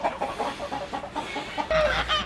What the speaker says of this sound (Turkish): Bak, simsiyah bir tavuk.